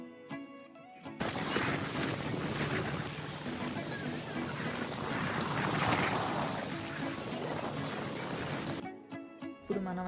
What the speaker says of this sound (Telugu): వాటర్ మీద గాలి అయితే విపరీతంగా ఉందండి. మనిషినైతే ఎత్తి పడేసే అంత గాలి అయితే వేస్తోంది.